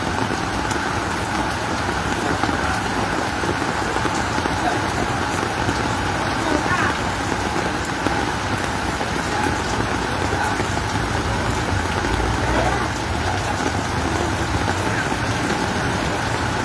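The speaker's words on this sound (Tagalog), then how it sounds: "makikita talaga natin na napakalakas ng ulan sa mga oras na ito" Heavy typhoon rain pounds down in Pasig during a storm, a loud dense roar of downpour that holds steady throughout, with a car engine rumbling faintly beneath and some voices.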